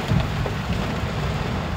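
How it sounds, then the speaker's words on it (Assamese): Heavy rain falls in a steady, loud wash with deep low rumble underneath, continuous and close. "ইমান বৰষুণ দিছে"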